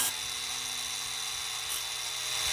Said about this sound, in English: after a lot of filing on the bolt and grinding it up